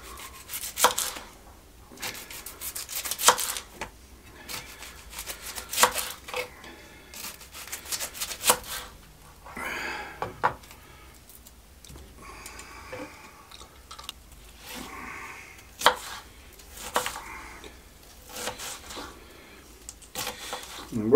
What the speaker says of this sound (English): And then we'll cut half of a white onion